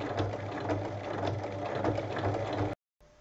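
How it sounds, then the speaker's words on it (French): A sewing machine stitches along a drawn line in fabric, a close rapid mechanical whirring with even needle ticks that stops abruptly near the end. "On trace ensuite une base de 7 cm et on pique sur la ligne."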